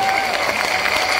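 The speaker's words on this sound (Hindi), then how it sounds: "एक बार जोरदार ताली बजनी चाहिए हमारे अनुज के लिए" A crowd at a Bageshwar Dham padyatra gathering applauds in a dense, steady wash of clapping, loud and continuous, with faint voices mixed underneath.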